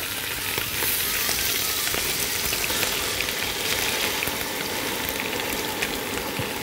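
Yellow lentils hit hot oil in a pan while cooking lentil koshari, a steady loud sizzle and crackle that holds evenly throughout with no talk.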